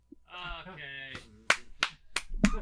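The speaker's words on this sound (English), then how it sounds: "I'll clap for that." Several sharp, isolated hand claps ring out one after another on a podcast, loud and close, following a short burst of talk and spaced irregularly.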